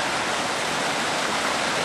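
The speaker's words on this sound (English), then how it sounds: "you can see we have swiftly flowing water running across all of that exposed bedrock" Swiftly flowing water running across exposed granite bedrock at a prospecting site, a loud continuous rushing roar with no pauses.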